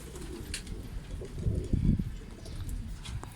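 An akbaş pigeon coos softly a few times at close range, with a burst of fluttering movement in the middle as it stirs to take off, no voices present.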